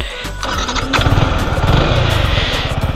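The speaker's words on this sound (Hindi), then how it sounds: "ये अपनी बाइक स्टार्ट है" A Yamaha R15 V4 motorcycle engine fires up and runs loud and close in the Shivalik mountains, settling into a fast, rough throbbing idle.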